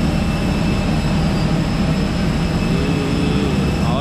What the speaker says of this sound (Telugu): so here is my flight IndiGo అది ఏటీఆర్ అనుకుంటాను నేను